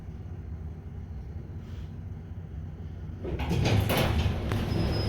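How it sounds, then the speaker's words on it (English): A vintage Otis black button traction elevator door slides shut automatically at a hospital, starting as a low hum of machinery and then sliding with a louder rushing, rumbling close partway through, with a faint high tone at the end. "Door closes automatically, I like that."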